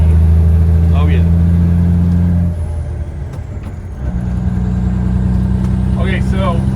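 Peterbilt cabover truck cruising in 13th gear, a loud droning engine hum that dips for a moment mid-clip as it shifts, then resumes, with brief voices in the cab.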